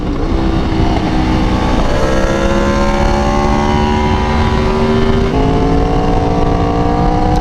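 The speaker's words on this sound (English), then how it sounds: "I'm also going to be testing U-turns on other people's bikes." A motorcycle engine drones loud and close during a ride with U-turns, its pitch rising steadily and then stepping down twice as the rider shifts, continuous throughout with no talk.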